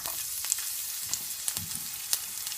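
Onions hit hot vegetable oil and fry with a soft, steady sizzle, broken by a few light crackles and small utensil taps close by.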